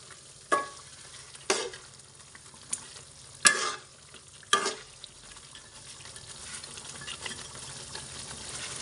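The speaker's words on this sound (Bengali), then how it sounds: "মাংস আরও 1 মিনিট কষানোর পরে" Meat and spices being stirred and sautéed for halim in a pan, with five sharp scraping stirs over a steady sizzle that carries on alone to the end.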